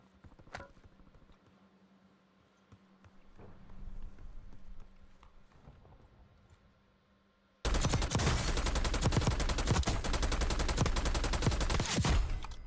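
An AK-74 fires in Call of Duty Warzone: after quiet footsteps and movement, a loud, sustained automatic burst of rapid shots rings out for about five seconds.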